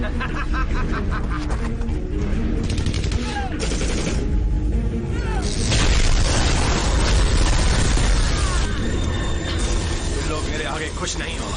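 Movie gunfire effects from the 2009 action film Jack Hunter 3, dense rapid bursts of shots and booms layered over loud music and frantic dialogue, continuous and intense throughout.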